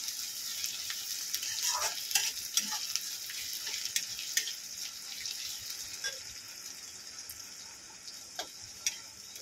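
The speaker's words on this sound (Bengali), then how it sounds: "5টা কাঁচা লঙ্কা, বেশ কিছুটা কাজু নিয়েছি। আর সঙ্গে একটু ভেজে নেব।" Green chillies and cashews frying in a pan for a soybean dish. A soft, steady sizzle is heard up close, broken by scattered sharp pops and clicks of spatula stirring, with no voices.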